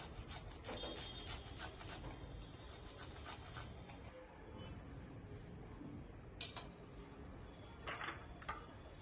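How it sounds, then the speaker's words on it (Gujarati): Garlic cloves rasped against a kitchen grater give a steady, close scratching rub with quick repeated strokes that runs through the whole stretch, a few sharper scrapes standing out near the end. "બે લસણની કળી છે, જે આપણે ગ્રેટરથી ગ્રેટ કરી લઈશું"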